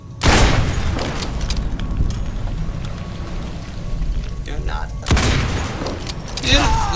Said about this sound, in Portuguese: É bonito ver eles explodindo